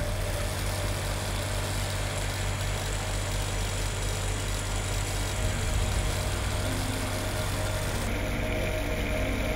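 A car alternator converted into a 10,000W brushless motor, spinning at up to 2,875 RPM on a 55-volt DC controller supply, gives a steady close mechanical hum and whine with a constant low drone and a high tone near the end.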